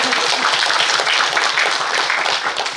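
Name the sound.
audience applause for a speaker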